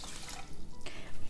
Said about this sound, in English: I've got 3 cups of water going in